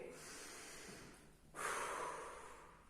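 Children in a preschool physical education class breathe in through their noses: a soft rush of air, then a stronger, longer sniffing inhale, close and fairly quiet with no talking.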